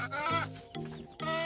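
Chickens cluck and bleat-like squawk in short, close bursts, three quick calls in a row with brief pauses between, no talking over them.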